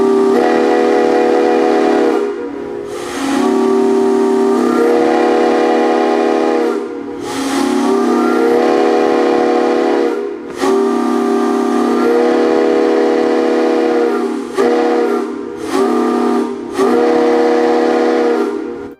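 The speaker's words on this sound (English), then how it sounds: "you can actually blow the whistle" The whistle of a Santa Fe 4-6-4 Hudson steam locomotive blows loud and close in a series of long and short blasts, its chord-like tone starting and stopping several times.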